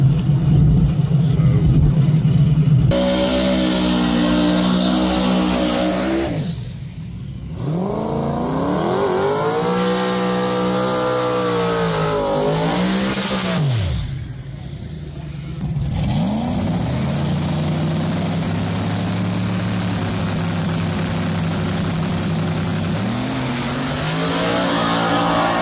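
Small-tire drag race cars run at a 704 Outlaws event, their loud engines revving and surging in long rising and falling sweeps, with voices heard alongside.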